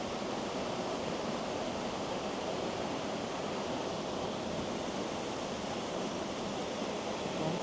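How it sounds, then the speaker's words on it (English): A forest waterfall at Rodney Falls pours in a steady, dense rush of water that fills the whole stretch evenly and continuously, close and loud with no voices over it. "Isn't the waterfall so beautiful?"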